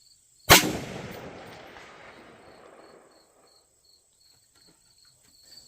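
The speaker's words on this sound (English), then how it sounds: "I was actually getting the hits with the rifle, hoping that you could hear it ding against the plate" A rifle fires a single Sellier & Bellot 7.62x39 round at a steel plate 300 yards away. One sharp, loud report is followed by a long rolling echo that fades over a few seconds, and crickets chirp steadily in the background.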